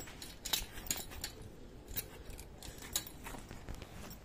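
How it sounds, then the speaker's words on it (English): A zipper is drawn along a tarp cover fitted over an e-bike, giving several quiet, scratchy bursts of ticking at close range with pauses between the pulls. "Zipper."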